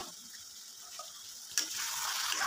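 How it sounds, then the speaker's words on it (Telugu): Tomato cooking with mutton liver in hot oil gives a soft, steady sizzle that suddenly grows louder and brighter halfway through and then keeps frying close by. "టమాటా అనేది ఉడుకుతుంది"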